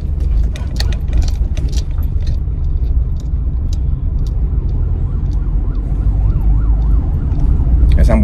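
An ambulance siren wails in the distance with a warbling up-and-down pitch, rising over steady road and engine noise.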